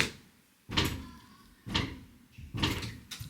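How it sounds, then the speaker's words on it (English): A 3-year-old child bangs on a closed door from outside the room, four separate heavy knocks spaced about a second apart, muffled but distinct, with quiet gaps between them. "My daughter is banging on the door"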